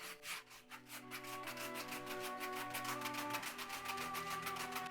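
Crumbs being brushed off a cooled triple chocolate Yule log cake: soft, close, rapid bristle strokes repeating steadily, fairly quiet, with no talking.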